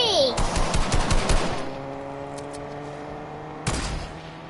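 Automatic gunfire in a PS4 online shooter game, rapid bursts of loud shots in the first second and a half, then fading, with one more shot near the end and people talking over it.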